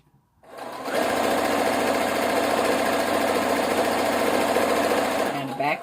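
A sewing machine back stitches while sewing sparkly bell-bottom leggings, running loud and steady as a continuous mechanical whir for about five seconds before stopping.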